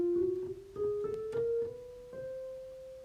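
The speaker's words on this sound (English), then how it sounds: "pressing every note white and black on the keyboard from one octave to the next" A keyboard plays a chromatic scale across an octave, pressing every white and black key in turn: a run of distinct, evenly stepped notes rising steadily in pitch, heard alone at moderate volume.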